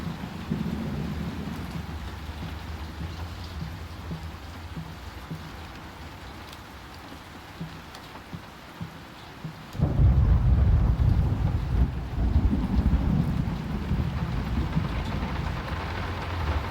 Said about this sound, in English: now it's raining in this room